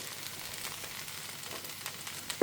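Okra sautés in a pressure cooker with a soft, steady sizzle. The sound is faint and even, with a small clatter at the very end.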